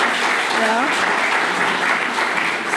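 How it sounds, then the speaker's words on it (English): A tech conference audience applauds in a dense, sustained clatter of clapping that fills the room, with a brief voice near the start. "So let's applaud them."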